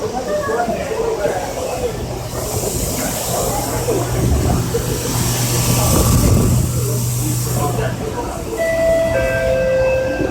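A Singapore MRT train arrives at City Hall station's platform, rumbling along with steady rail noise and a low hum, a brief electronic tone sounding near the end.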